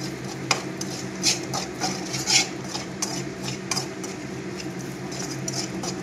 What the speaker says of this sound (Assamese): ঢালি দি এতিয়া ভাজি ল'ম